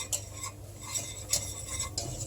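Flour being stirred and toasted in a pot for chickpea chicken soup, a spoon scraping and clinking against the metal in quick irregular strokes over a faint sizzle, close and fairly quiet.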